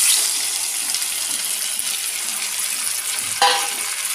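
Marinated meat coated in salt, turmeric and ground spice paste fries in a pan, giving a steady, close hiss of sizzling with one brief clatter near the end and no voices.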